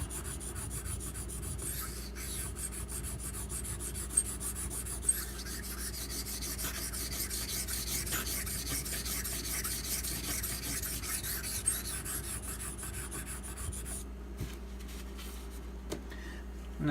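A knife blade rubs back and forth on a sharpening stone held in a Razor Edge clamping system, a continuous close gritty rasp that stops near the end, leaving a few light clicks.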